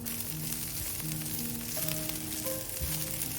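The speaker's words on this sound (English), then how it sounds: "Add a little of the frying oil to the wok. Then add the shallot, ginger, garlic, and green onion." Shallot, ginger, garlic and green onion sautéing in oil in a wok, a soft steady sizzle running throughout under background music, with no talking.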